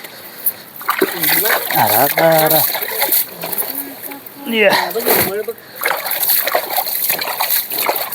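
Water from a hose pipe splashes and sloshes nearby while household sheets are washed, in bursts of varying strength, with people talking over it throughout.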